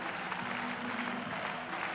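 A crowd clapping along to music at the Euroskate 88 freestyle street and ramp skating event, a steady wash of distant applause mixed with the music, moderately loud and continuous.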